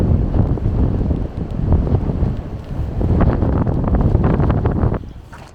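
Strong wind gusts beside a river, a loud, rough buffeting roar against the microphone that surges and eases over several seconds and nearly drowns out the flowing water.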